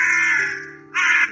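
A crow gives two harsh, rasping caws separated by a short pause. The calls are close, clear and loud, with no talking.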